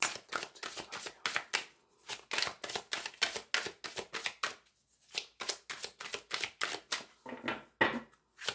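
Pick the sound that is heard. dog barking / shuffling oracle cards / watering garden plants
shuffling oracle cards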